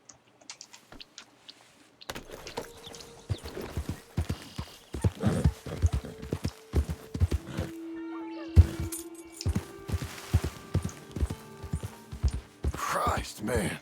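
Horse hooves clip-clop in a steady walking rhythm while riding in the Red Dead Redemption 2 video game, close and fairly crisp, with character talk and snatches of background music over the top.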